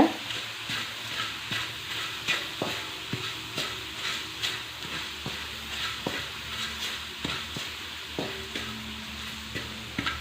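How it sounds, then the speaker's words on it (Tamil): Green leaves fry in a pan as they are roasted dark for a homemade herbal hair dye, crackling and sizzling steadily while a spoon stirs and scrapes in a regular rhythm. "இது நல்லா கருப்பாகிற அளவுக்கு வறுத்து விட்ருங்க"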